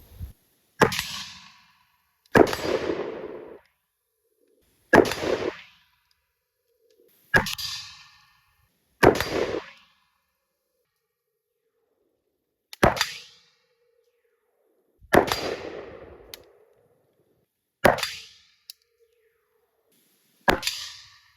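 A Romanian PAR-3 pump-action 5.56 AK-pattern rifle fires at distant targets on an outdoor range: sharp, loud single reports with short decaying tails, spaced a few seconds apart, and no talking.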